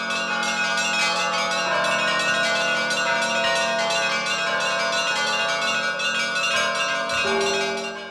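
Russian church bells ringing in a Moscow bell tower, several large bells sounding together in a dense, sustained, loud peal with long ringing tones, no voices.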